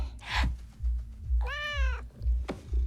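A single clear cat meow, drawn out and rising then falling, over a low rhythmic thumping background with soft rustling.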